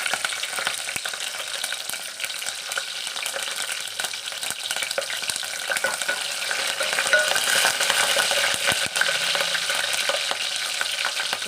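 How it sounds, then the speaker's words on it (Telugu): Chopped green chillies fry in hot oil for a Telangana brinjal curry, a dense continuous sizzle with crackles and scraping stirs throughout, close and fairly loud. "ఇప్పుడు కొంచెం మనం కట్ చేసి పెట్టుకున్నాం పచ్చిమిరపకాయలు అయితే వేసుకున్నాం."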